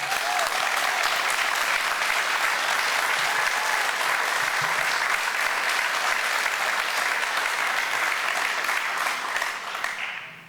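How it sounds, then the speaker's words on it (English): A crowd at a university athletics welcome event gives sustained applause in honor of the baseball, softball and track and field teams. Dense, even clapping holds steady for about ten seconds, then tapers off at the end. "I would love to give a round of applause for baseball, softball, track and field, and what they've done this spring"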